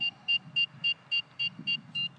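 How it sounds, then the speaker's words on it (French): A series of about eight short, evenly spaced electronic beeps from an RC transmitter syncing to a WLtoys V913 helicopter, high-pitched and clear, repeating in a steady rhythm with a faint low hum underneath. "On entend des bips. Une fois que les bips sont terminés, la télécommande est synchro sur l'hélicoptère."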